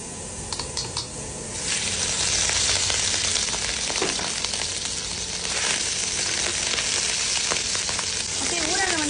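Small-cut garlic sautés in hot oil with a steady, close sizzle and hiss that lasts throughout, with faint stirring scrapes and a voice briefly heard near the end.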